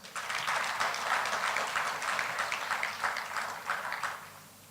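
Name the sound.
audience applause at a gala dinner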